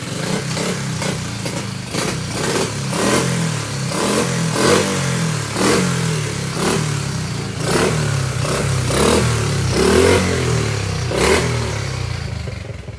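A Honda SL70K1 motorcycle runs and is ridden, its small engine puttering loudly and steadily close by, with repeated swells of revving in a regular rhythm over about thirteen seconds.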